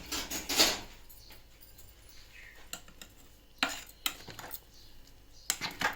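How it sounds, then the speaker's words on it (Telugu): Garelu batter being stirred by hand in a bowl, with a few scraping knocks and soft clinks of utensils against the bowl, fairly quiet and close, with no talking. "కొంచెం ఒకసారి మనం కలుపుకోవాలండి."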